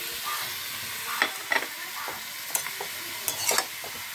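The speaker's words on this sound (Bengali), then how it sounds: "এই ট্যাংরা মাছ ভাজাটা আমি দিয়ে দিলাম" Fried tangra fish is added to a pan of softened spring onions, with a steady sizzle broken by sharp stirring scrapes and spatula taps close up, no voices.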